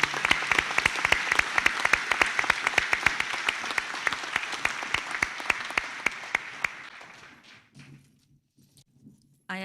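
A graduation ceremony crowd claps for the graduates, a dense, fairly distant patter of applause with individual sharp claps that fades out into near silence near the end.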